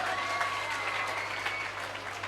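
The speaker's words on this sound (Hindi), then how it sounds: "बिल्कुल सही जवाब, जोरदार ताली" A studio audience on a KBC-style quiz show claps in a steady round of applause after a correct answer, moderately loud with a low hum underneath.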